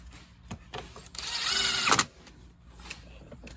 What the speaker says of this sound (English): I'm using an impact, but I'm well aware that I'm using one.